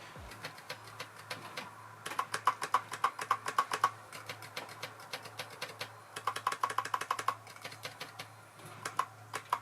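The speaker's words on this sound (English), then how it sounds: "So this is not as strong or affirmative a click as the BMW one." Aftermarket eBay and OEM BMW F-series steering-wheel paddle shifters are flicked by hand, giving rapid bursts of light, close plastic clicks in uneven runs with short pauses between them.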